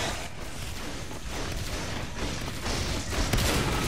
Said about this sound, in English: They have shotguns!